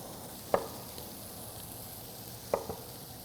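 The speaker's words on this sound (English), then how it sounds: "fully cook this bacon, render out all of the fat from it" Bacon fries in a pan, rendering out its fat with a soft, continuous sizzle and two brief, sharper pops of spattering grease.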